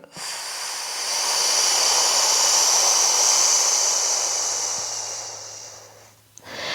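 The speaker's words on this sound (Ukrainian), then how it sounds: "Видих." Slow, steady exhale during an abdominal breathing exercise, a soft airy breath that swells, holds for several seconds and gradually fades, close and alone, with a brief quiet gap near the end.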